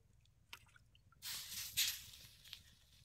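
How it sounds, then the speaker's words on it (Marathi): Wet hands patting water over a round millet (bajra) flatbread being shaped for a wood-fired village stove, giving a few soft, close squishy dabs and dripping splashes that build into a brief louder wet smear. "आणि याला लगेच पाणी लावायचं भाकरीला."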